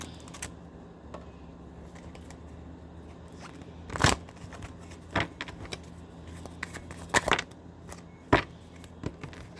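Pink Floyd tarot cards are shuffled close by in a quiet room, producing scattered soft riffles and a few sharper snapping flicks at uneven intervals, with no speech.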